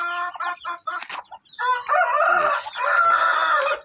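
Native chickens on a Filipino farm clucking and crowing up close, loud and continuous, with a brief spoken word.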